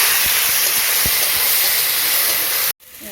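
Tomatoes dropped into hot oil already seasoned with dried red chillies, cumin and pepper, giving a loud continuous sizzle and hiss with a few soft pops before it cuts off abruptly.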